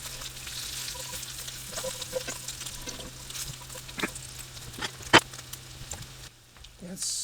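Popcorn cooks in bacon grease in a hot cast iron pan, a continuous close sizzle and crackle with scattered sharp pops and a brief quieter moment near the end.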